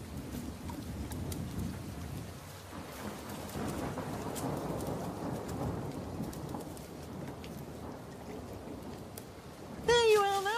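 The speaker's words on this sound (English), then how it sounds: "Oh, it's only a spring shower, Johnny." Spring rain shower in a cartoon, a steady patter of falling rain with low rumbling underneath, moderately quiet, ending in a brief warbling tone.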